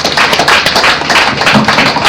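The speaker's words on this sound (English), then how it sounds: "Let's appreciate Dr. Kenny Oteje by giving another round of applause" Loud, dense round of applause from a conference audience, many hands clapping at once in a continuous patter heard up close for a couple of seconds.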